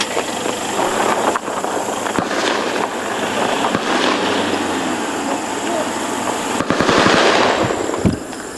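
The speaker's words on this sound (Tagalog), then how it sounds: "Hanggang basagi ng putok ng baril ang kadiliman." Gunfire breaks out during a nighttime ambush in Maguindanao, with scattered single shots and then a rapid burst of automatic fire over a loud, noisy background. Voices shout throughout.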